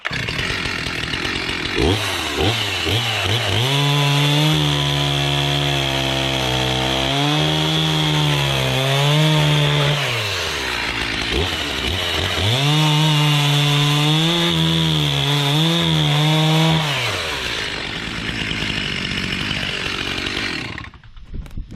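Stihl MS 361 chainsaw running loud and close, cutting wood, its engine note climbing and sagging through two long cuts before idling down and stopping.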